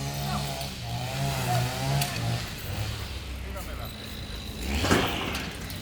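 Outdoors in a barrio in La Fortuna, Costa Rica, a weed whacker's small engine whines at a moderate distance, its pitch wavering as it works, with people talking over it.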